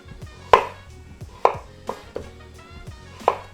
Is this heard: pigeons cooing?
no